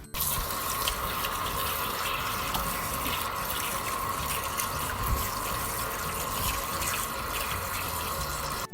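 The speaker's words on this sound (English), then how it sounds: "Now we're going to wash it." Sliced chicken fillet pieces rinsed under a running kitchen tap, a steady close splashing of water into a sink with a constant hiss and faint clinks, no voices.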